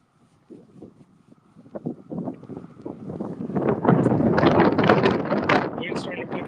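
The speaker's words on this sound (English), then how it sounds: "Wind's starting to pick up a little bit again." Wind rises outdoors on a bike trip through the Florida Keys, growing from soft gusts into a loud, steady rush of buffeting across the microphone.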